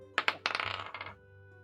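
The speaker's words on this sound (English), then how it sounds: "I like the foley it makes. There's dice." Dice roll and clatter in a virtual tabletop game's sound effect, two sharp hits followed by a rapid rattling tumble that settles after about a second, clear and close with no talk.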